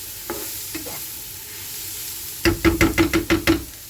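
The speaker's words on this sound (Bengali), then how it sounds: "ভাজা ভাজা হচ্ছে অ্যাভোকাডোটা।" Avocado slices fry in a pan, giving a steady sizzle, then a quick run of about seven sharp knocks from a utensil stirring against the pan near the end.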